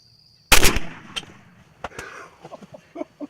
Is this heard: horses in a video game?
no